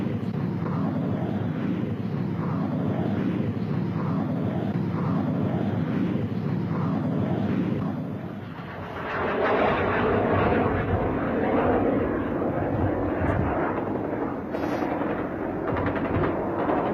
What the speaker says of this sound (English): Frente a nuestra cámara, A4B, carreteando y saliendo